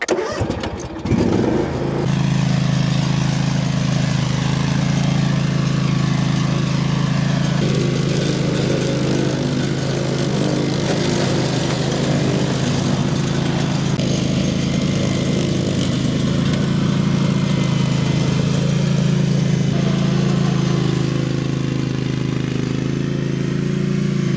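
Etesia Attila brush mower engine running steadily as it drives through an overgrown field, a loud, close, continuous mid-pitched drone that starts up in the first couple of seconds and holds for the rest.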